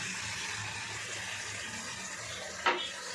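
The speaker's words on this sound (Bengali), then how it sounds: "মশলা ধোয়া জলটা দিয়ে দেবো।" Water used to rinse spices pours into a hot cooking pan as a steady, soft liquid rush, with one brief splash near the end.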